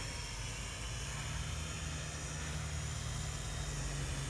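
A Syma X8SW quadcopter drone flies outdoors in a light breeze, its motors and propellers giving a constant loud buzzing whine that holds steady with no pauses.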